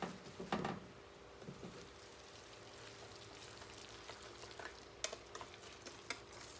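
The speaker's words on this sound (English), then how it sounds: "We'll stir that up in it." Fritter batter with crawfish, corn, chopped green onion and jalapeno being stirred in a bowl, a soft scraping swish with a few sharper clinks, faint and close, no voices.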